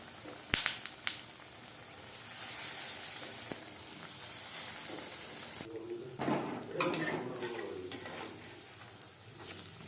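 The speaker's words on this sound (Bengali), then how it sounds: "চপ ভাজবো মিডিয়াম ফ্লেমে।" Potato chops deep-fry in hot oil in a kadai over a medium flame with a continuous hissing sizzle. Sharp clinks and clatter of utensils and a brief bubbling surge come through midway.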